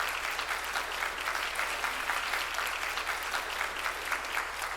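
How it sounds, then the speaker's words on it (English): An audience claps steadily and evenly, a dense sustained round of applause at a business conference workshop as a speaker walks to the podium, filling the clip from start to finish without a break. "let's give him a round of applause as he comes to the podium"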